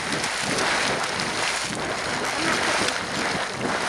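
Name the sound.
Yellowstone geyser erupting with splashing water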